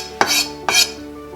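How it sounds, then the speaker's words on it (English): Two separate scraping, clinking strokes as canned sardine choka is mixed with a utensil in a bowl, each followed by a brief rattle, close and fairly loud with no talking. "Now we're just going to put it in the bowl and mix it up"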